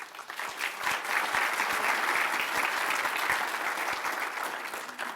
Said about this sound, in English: So I also want to give them a big round of applause as well.